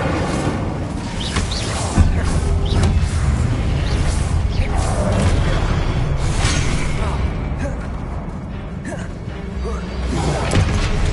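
Spell-casting effects from a fire spell in Hogwarts Legacy, a dense stream of whooshes, bursts and crackling impacts that run continuously over busy in-game background sound, with a sharper hit near the start.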